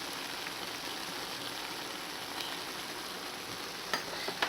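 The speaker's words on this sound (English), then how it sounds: "I'll give it one more stir." Chicken curry simmering in a pan, with a steady, continuous sizzle and bubbling throughout and a few brief scrapes of stirring near the end. No one speaks.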